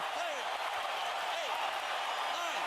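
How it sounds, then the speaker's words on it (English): A boxing arena crowd roars after a knockout, a dense, sustained wash of cheering and shouting with no pauses, heard from a distance while a commentator speaks over it. "That's the biggest moment of the night for the crowd. They're going wild."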